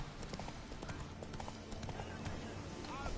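Roach, the horse, gallops with rapid, steady clip-clop hoofbeats in the video game The Witcher 3, with a brief snort near the end and a voice speaking over the steady thudding.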